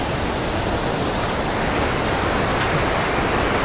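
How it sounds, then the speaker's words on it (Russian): Dense, steady roar of rushing water from the Iguazu waterfalls in Argentina, a continuous broadband wash with no letup, close and fairly loud with no voices over it. "Журчит водичка-то."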